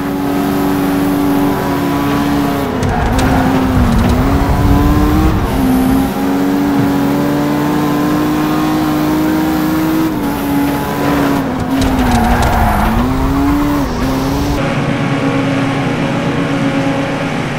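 Race car engine in the video game Toca Race Driver 3, a loud steady drone that rises and dips as the car accelerates and brakes through corners, with brief tire squeals and scrapes, heard alone without talk.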